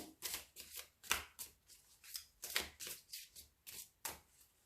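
Tarot cards being drawn and cut by hand, a quick run of soft, close riffling and slapping card sounds in an irregular rhythm, with no talking.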